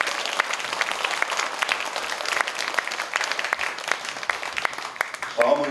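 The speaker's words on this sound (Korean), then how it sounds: "수미산 원정대 합창단에 큰 박수 부탁드립니다." An assembly at Bongeunsa temple applauds a choir during a regular monthly dharma service, with dense, even clapping from many hands throughout and a brief louder burst near the end.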